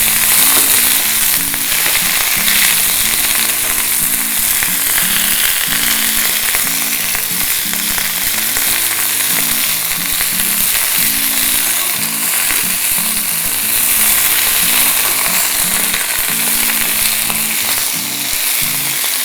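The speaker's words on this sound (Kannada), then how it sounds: "ಇದನ್ನು ಚೆನ್ನಾಗಿ ಹುರ್ಕೊಳ್ಳೋಣ ಇದರ ಹಸಿ ವಾಸನೆ ಸಂಪೂರ್ಣ ಹೋಗೋ ಹಾಗೆ ಫ್ರೈ ಮಾಡ್ಕೊಳ್ಬೇಕು" Fresh doddapatre (Indian borage) leaves fry in a pan with a loud, continuous close sizzle and crackle, while a rhythmic stirring scrape and low background hum run underneath throughout.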